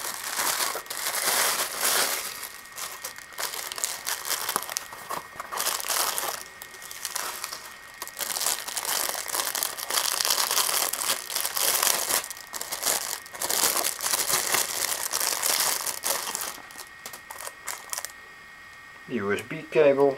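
Packaging crinkles and rustles loudly up close while a hard disk is unpacked, a dense, continuous crackle of handled wrapping with brief lulls, ending with a short voice.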